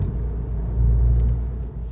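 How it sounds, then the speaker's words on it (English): A 2015 VW Golf R MK7 fitted with an Invidia Q300 catback exhaust idles with a steady, deep low rumble that swells slightly mid-clip before settling, heard close and alone. "This is a little low end rumble. It is definitely not annoying or droning."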